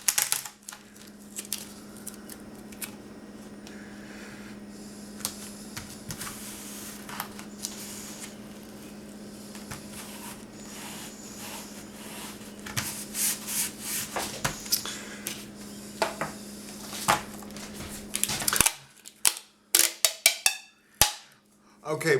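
Duct tape is pulled and pressed onto a homemade hazmat hood, with close rubbing, crinkling and tearing scrapes over a steady low hum that cuts off near the end, followed by sharper handling clatter.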